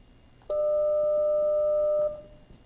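A single steady pure tone, one isolated partial of a musical note, rings out alone, holding evenly for about a second and a half before cutting off, with faint room hiss around it.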